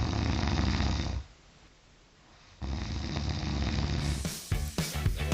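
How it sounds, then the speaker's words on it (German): Loud, rough snoring from a man asleep, repeated rasping breaths with a brief quieter gap between them, close and steady throughout. "Denn lautstarkes Schnarchen ist für viele ein Riesenproblem."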